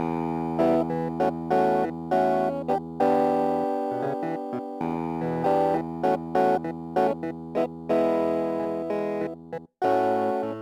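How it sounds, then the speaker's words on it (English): A Hohner clavinet run through an Axe-Fx III amp patch plays funky, staccato chord stabs in a syncopated rhythm, punchy and close, with a few short gaps and no talking. "let's check out the Hohner clavinet"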